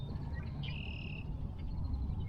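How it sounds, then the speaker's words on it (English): A red-winged blackbird at a flooded lake gives a single bright, drawn-out call, faint and a little distant, over steady wind rumble. "Got a red-winged blackbird flying in front of me. Beautiful. I love the sound they make."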